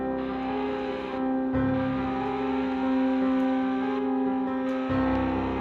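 A car drives in a video game with a loud, continuous engine drone and shifting pitch and a couple of brief changes in tone as it revs.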